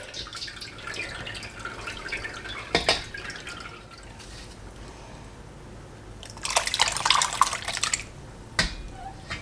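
Fermented apple-scrap liquid for homemade cider vinegar drips and splashes while being strained through cheesecloth, with a longer close trickling pour midway and scattered single drops around it.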